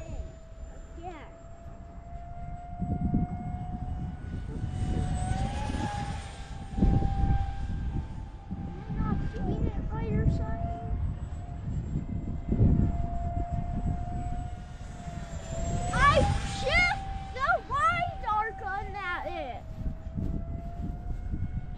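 A model F-16 jet flies overhead with a steady high turbine whine that rises and falls as it passes, with rumbling wind and voices talking throughout.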